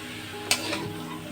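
A spoon stirs chalta (elephant apple) pickle with sugarcane jaggery in a pan, giving one quick scrape and soft sticky shuffling at low volume, with no voices.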